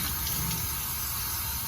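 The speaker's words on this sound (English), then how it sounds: "Run it under cold water." Cold tap water runs at a kitchen sink over tomatoes being rinsed. It is a steady, continuous rushing flow with no voices.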